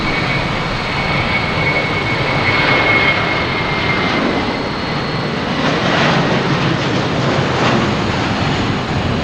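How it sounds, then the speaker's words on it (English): A JetBlue airliner at Boston Logan Airport, a loud broadband engine roar that holds steady and swells slightly, heard close and alone. "We got a JetBlue here."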